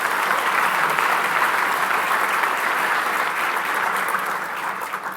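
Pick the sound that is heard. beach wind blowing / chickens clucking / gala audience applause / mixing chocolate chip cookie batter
gala audience applause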